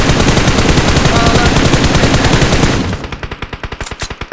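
Rapid automatic gunfire from the battle royale game BGMI, a dense sustained burst that breaks into distinct, evenly spaced single shots toward the end, loud and close.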